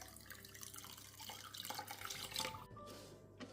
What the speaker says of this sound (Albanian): Si për sheqerit, do të shtojmë 1 litër me ujë.